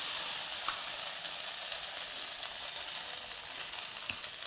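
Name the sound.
okra (bhindi) sizzling and being stirred in pan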